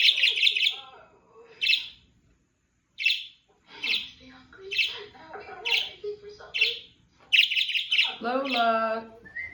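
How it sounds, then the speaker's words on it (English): A pet Quaker parrot gives repeated bright, close chirps in short clusters with brief pauses, ending in a longer squawky call, while a person speaks softly nearby. "Pretty bird Lola"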